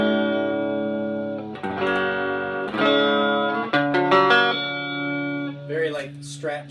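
An electric guitar on its neck pickup in single-coil mode, played through an Electro-Harmonix Freedom amp, rings out in clean sustained chords and notes, several strummed shapes letting ring, then a brief flurry of picked notes.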